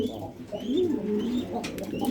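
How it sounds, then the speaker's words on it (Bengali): A breeding pair of pigeons gives low, rolling coos close by, one sustained throaty call swelling and fading against a quiet room background. "এই মাদি কবুতরটা দুবার ডিম দিল আর দুবার দেওয়ার জন্য ডিম দেওয়ার জন্য সম্পূর্ণ দায়ী এই নর কবুতরটা"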